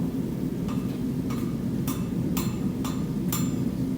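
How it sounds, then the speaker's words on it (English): Hammer striking a metal bar held over an anvil horn with glancing blows, five or six sharp metallic taps spaced about half a second apart, faint against a steady low background rumble. "So supporting it with the horn of the anvil and using a glancing blow."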